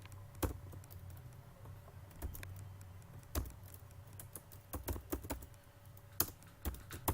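Keys clatter on a computer keyboard while a command is entered in a Solaris terminal, with quiet, close, irregular taps in short bursts and a few sharper strokes like the enter key.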